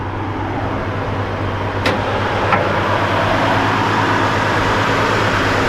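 A 1966 Mustang GT Fastback engine idles slightly high with the air conditioning running, a steady low rumble that holds even and continuous throughout, with a couple of brief faint clicks partway through.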